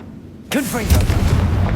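A Confringo blasting spell fires in Hogwarts Legacy, a sharp game explosion that bursts out and rumbles on through the rest of the clip, with a brief voice-like sweep at its start.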